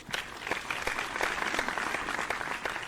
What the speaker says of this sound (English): give a warm round of applause for your contestant.